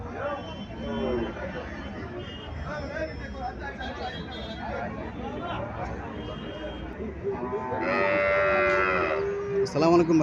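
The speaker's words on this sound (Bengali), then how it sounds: "এখানে একটা গাভী দেখা যাচ্ছে" A cow at a rural cattle sale in Cumilla, Bangladesh, lets out a long low moo near the end, rising over a steady murmur of voices and crowd chatter.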